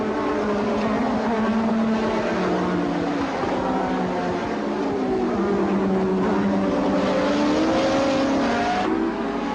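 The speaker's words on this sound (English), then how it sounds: "Oblivious to all this, Senna raced on in the lead." Formula 1 race cars of the 1986 season at the German Grand Prix, Hockenheimring, roar continuously with high-pitched engine wails rising and falling as cars pass, a loud dense racing din throughout.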